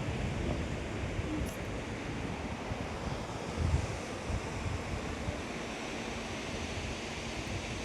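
Surf washes ashore at Varsoli beach near Alibag, a broad continuous roar of waves mixed with wind buffeting the microphone, with one slightly louder surge midway and no voices.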